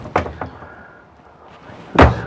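Kitchen cabinet drawers in a 2013 Forest River Solera 24R RV are pushed shut: two quick, lighter wooden knocks are followed after a short pause by one louder, sharper thump, close by and with no talk.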